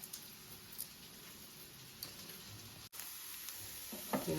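Onions fry in a pan for a prawn tomato curry, giving a quiet, steady sizzle with faint crackles and small clicks throughout, and a brief stir or scrape near the end.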